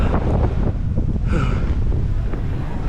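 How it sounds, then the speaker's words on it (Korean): Strong headwind buffeting the microphone during a bicycle ride along the southern Spanish coast toward Conil, a loud, continuous low roar of wind rush that persists throughout with no break. "이거 바람이 너무 세. 역풍이 장난이 아니에요."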